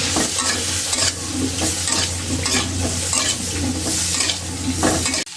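Potatoes and onions with turmeric and chili powder being stirred in a hot pan, with a steady sizzle of frying and repeated scraping and clinking of the utensil against the pan, close and loud.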